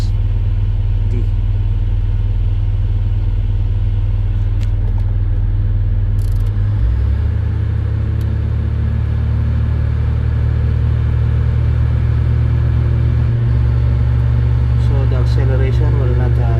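A CAT 336D excavator's diesel engine idling without acceleration due to a negative engine oil pressure reading, a loud, continuous low rumble that stays level with no revving, and a brief clank near the middle.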